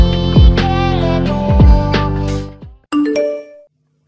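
A notification bell sound effect rings out as a ringing ding-dong chime sequence, several bright struck tones decaying over the first few seconds, followed by a short, higher chime near the end; loud and with no talking.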